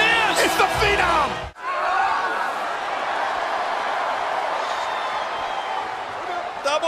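Wrestling arena crowd roaring for the Undertaker, a loud and continuous wash of cheering and yelling that fills the space. Excited commentary sits over it at the start, followed by a brief sharp cut.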